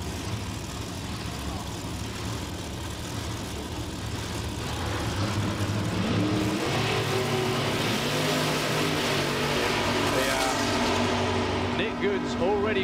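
Super Pro drag racing cars roar off the line and accelerate down the track in a steady, loud engine din, with a commentator talking over it.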